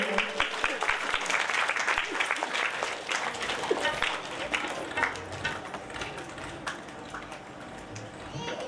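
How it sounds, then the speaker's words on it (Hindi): Applause from an audience at a gaushala ceremony during a Shrimad Bhagavat Katha gathering, as guests are called to the stage for mementos; steady, dense clapping with some voices and background bustle running throughout. "आप जोरदार तालियां बजाते रहें"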